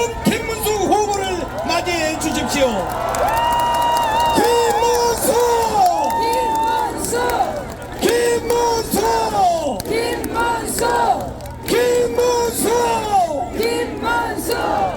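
A large outdoor crowd at a presidential campaign rally in Seoul Station Plaza roars, chants and applauds, loud rhythmic shouting and cheering with amplified voices over the top.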